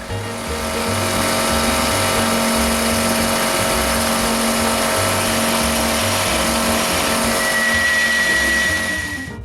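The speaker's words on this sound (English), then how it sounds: "just at that moment the air compressor started" An air compressor running steadily in a woodturning workshop, a loud continuous machine drone with a pulsing low throb and constant high hum, unbroken for the whole stretch with no talk.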